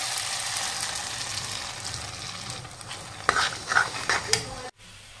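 Potatoes and tomatoes frying in a pan, a continuous sizzle with stirring and scraping that turns louder and clattery near the end before cutting off abruptly.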